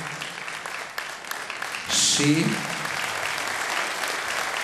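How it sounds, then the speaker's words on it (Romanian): Audience applause at a Christmas carol concert in Mediaș, honoring the performer's parents, a steady moderate patter of clapping with a voice speaking briefly over it. "Merită aplauze acești oameni deosebiți care și-au încurajat fiul"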